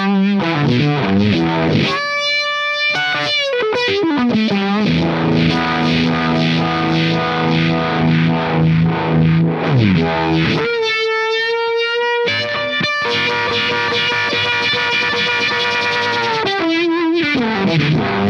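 Fuzzed guitar played through a Sabbadius Funky Vibe Real Size 1969, a Shin-ei Uni-Vibe style pedal, with a thick, distorted tone and a swirling, throbbing chorus-like modulation. The notes and chords sustain loudly and steadily with no talking.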